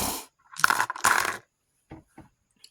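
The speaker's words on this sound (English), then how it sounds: "Go figure, it was my 20-sided die that dropped." A 20-sided D&D die dropping, giving two dense bursts of clatter as it hits and tumbles, then a few faint, scattered taps as it settles, close by and with no talk.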